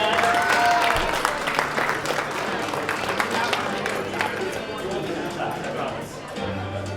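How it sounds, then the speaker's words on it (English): A live show audience claps and cheers for a volunteer being brought on stage, sustained applause from a crowd lasting the whole stretch, with scattered voices mixed in. "Let's give them a round of applause. Give them a hand."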